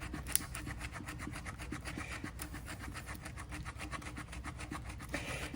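A fixed-blade knife with a 14C28N steel drop-point blade scrapes and rasps against wood in a quick series of repeated strokes, close but fairly quiet, with no voices.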